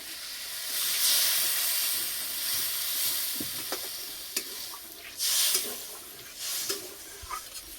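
Water poured into a hot pan of spiced drumstick vegetable stems, giving a loud steady sizzle and hiss with a few stirring clicks, close and without speech.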